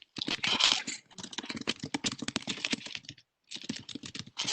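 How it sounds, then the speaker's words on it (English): Computer keyboard typing picked up on an open microphone during an online committee meeting: rapid, close clattering keystrokes in uneven bursts, with a brief pause before resuming. "I know there's like typing and all the things."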